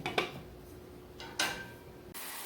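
A lid set on a cooking pot of simmering green beans and squash gives a few light metallic clinks and taps, quiet and close, ending in a soft hiss.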